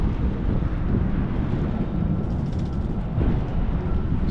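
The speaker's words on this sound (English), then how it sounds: "Super windy day today." Strong wind buffets the microphone in a constant loud roar, with low rumbling gusts throughout and no voices.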